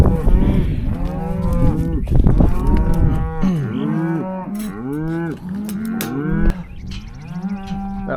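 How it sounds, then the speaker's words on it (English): A herd of excited cattle in a ranch pasture moo loudly and almost continuously, with many overlapping calls up close. "cows are excited, so I better get them moving."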